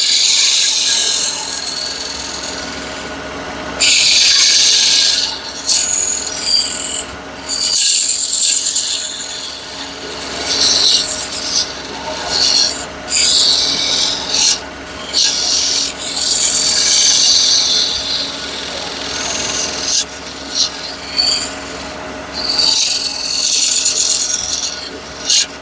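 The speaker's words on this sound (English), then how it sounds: "So I'm just going to part this off." A drilled workpiece is being parted off on a lathe, giving a steady scraping and rasping cut close by that swells and eases in waves over about twenty-five seconds, with no talking.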